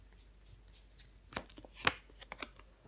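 Tarot cards shuffled and slapped down in a few quick riffles and taps, close and fairly soft, with no talk over them.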